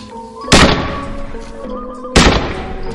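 Two loud, sharp gunshot blasts ring out about a second and a half apart as a signal in a Thai radio drama set in a walled town, each with a short ringing tail over background music.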